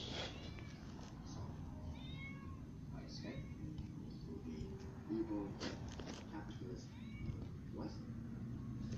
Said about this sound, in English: This is opening its mouth and meowing.